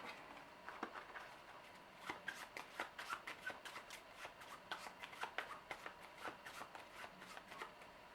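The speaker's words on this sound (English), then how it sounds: "Then we will take all of these discarded island cards and shuffle them." Forbidden Island island cards from a discard pile are shuffled by hand, giving a run of quick papery riffles and soft snaps at close range, steady and fairly faint, with no voices.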